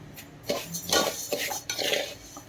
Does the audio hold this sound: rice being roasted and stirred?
yes